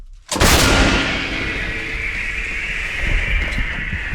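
One heavy M777 howitzer shot fires nearby with a sudden crack and deep thud, followed by a sustained rumbling echo and faint rattling afterward.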